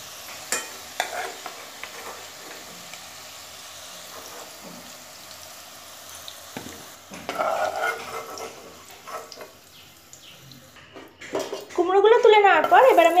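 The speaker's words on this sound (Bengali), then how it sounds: "কুমড়োগুলোকে আমি ভালো মতো ভেজে নিয়েছি, কুমড়োগুলো আমার ভাজা হয়ে গেছে" Pumpkin pieces being stirred and fried in a pan, a soft steady sizzle with spatula scrapes and clinks of the pan growing louder toward the end, while someone talks over it.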